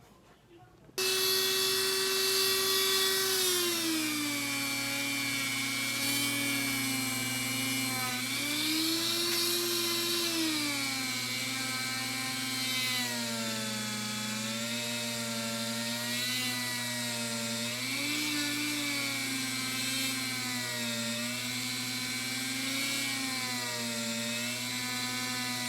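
Jumbo frets on a Fender Stratocaster being buffed with a power tool, a loud, continuous high whine whose pitch dips and rises as the pressure changes, steady for the whole stretch.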